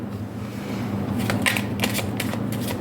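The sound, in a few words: tarot cards being laid down on a table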